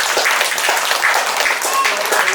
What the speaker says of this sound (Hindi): तो हम उनके लिए भी विशेष तालियां बजाकर उनको धन्यवाद देंगे।